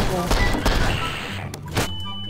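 A bomb goes off in Garry's Mod, loud booming blasts with a rumbling tail, followed by a further sharp burst before the noise drops away; a voice speaks faintly underneath.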